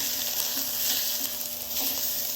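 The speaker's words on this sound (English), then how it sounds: "And get a quick sear." Food sears loudly under an electric searing tool that reaches over 600 degrees, a steady close hiss and crackle with no talk.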